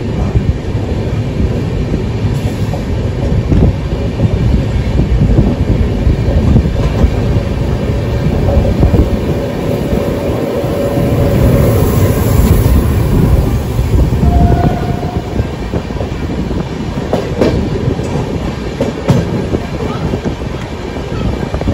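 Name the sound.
sleeper coach train running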